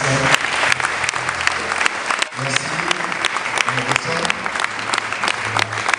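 A church congregation breaks into loud, continuous applause that fills the room for six seconds, with voices and singing heard underneath the clapping.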